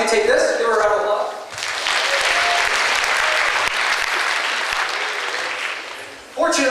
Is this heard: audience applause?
yes